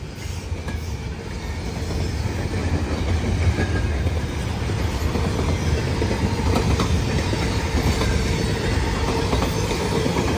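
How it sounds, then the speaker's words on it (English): Norfolk Southern coal train with a DPU locomotive working hard as it passes close by, a continuous heavy rumble of engine and rolling wagons with rhythmic wheel clatter and faint squeal, steady and loud throughout. "DPU working hard!"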